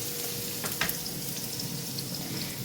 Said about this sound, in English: put some onions on the garlic. And now you stir it up nicely.